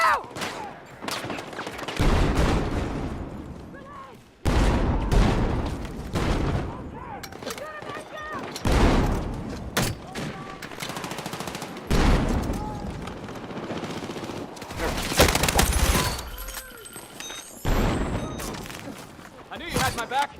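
Frag grenade blasts and heavy gunfire in a shooter video game, bursts of booming explosions and rapid automatic fire in loud waves, with players talking and shouting over the combat.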